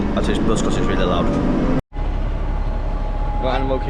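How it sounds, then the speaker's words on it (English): A loud bus engine running close by at a Walt Disney World park stop, a steady heavy rumble filling the whole stretch with people talking over it and a brief dropout midway. "I'll catch you all at this bus because it's really loud"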